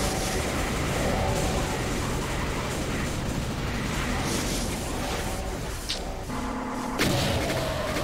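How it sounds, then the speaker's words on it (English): Continuous heavy rumbling blasts as a whole area explodes in Doom II, map 30, a dense roaring barrage with a sharp bang near the end. "the whole fucking area blows up"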